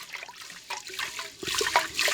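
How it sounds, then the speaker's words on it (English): Rice is swirled and rinsed by hand in a bowl of water, giving soft, close sloshing and trickling that grows a little busier near the end. "As I swirl this, and as I move the rice in the water, watch this."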